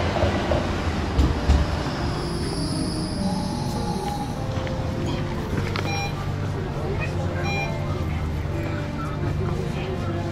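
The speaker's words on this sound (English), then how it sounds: "That's our tram coming." A Brussels tram pulls in toward a city stop, a steady loud rumble with faint wheel clicks and squeals building over about ten seconds, while people talk nearby.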